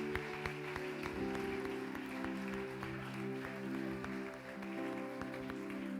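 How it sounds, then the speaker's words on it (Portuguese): Scattered hand clapping from a church congregation beneath sustained music, moderate and steady throughout. "Pode aplaudir."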